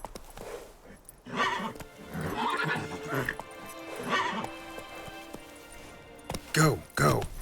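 A horse in The Witcher 3 whinnies and its hooves clip-clop at a gallop, the neighs rising loud near the end over the steady hoofbeats.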